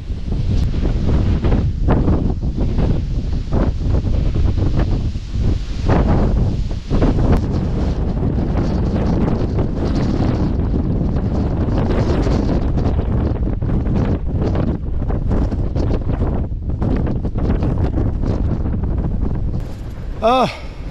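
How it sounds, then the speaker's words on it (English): Strong gusty wind on an exposed Peak District hill, loud constant roaring buffeting against the microphone with rumbling surges throughout, a voice briefly audible near the end. "It is still blowy"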